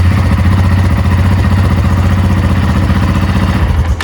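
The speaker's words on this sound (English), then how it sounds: "It's a pretty neutral, kind of wimpy sounding exhaust sound from the factory." A Yamaha Raptor 700R ATV with its stock factory exhaust idles close by, a steady, fairly mild low thump with even pulsing throughout, ending in a brief click.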